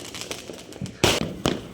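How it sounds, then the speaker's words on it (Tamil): Bursts of hissing, crackling spray from a flower pot firework at Diwali, a few loud sharp rushes standing out over softer sputtering in the background. "இது ஒரு விதமான புஷ்வானம் தான்"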